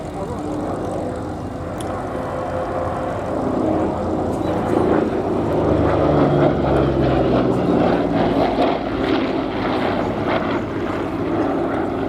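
A Korean War–era propeller aircraft known as the Flak Magnet flies past at an English airshow, its steady engine drone swelling and fading over the full length beneath a public-address commentator's voice.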